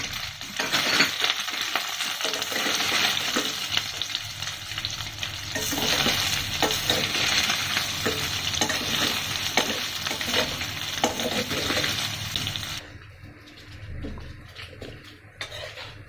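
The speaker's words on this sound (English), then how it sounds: "So we're going to fry the soya chunk." Soya chunks fry in shallow oil in a pan with a steady loud sizzle, joined by frequent metallic scrapes and clinks of a utensil stirring against the pan; the sizzle eases near the end.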